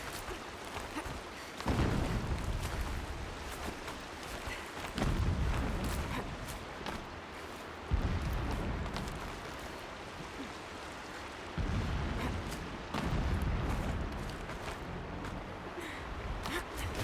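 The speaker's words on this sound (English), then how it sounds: "Explosions in the distance." Deep, rumbling booms roll in from far off in the game Horizon Forbidden West, several heavy bursts arriving every few seconds over a constant low ambient rumble.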